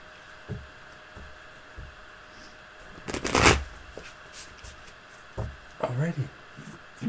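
Playing cards being shuffled close by, with one loud riffle burst in the middle and softer card handling before and after, while people talk under and around it.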